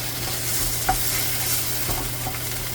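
Onions stir-fried in a pan for jjamppong give a steady, close sizzle with occasional soft scrapes and clicks of the spatula against the pan, continuous and without speech.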